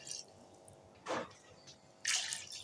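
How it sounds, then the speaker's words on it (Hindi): Water is poured from a glass into rice for vegetable pulao in a home kitchen, with two distinct splashing pours about a second apart and light dripping between them, close and clear. "3 गिलास चावल थे, इसी गिलास से मैं पानी ऐड करूँगी।"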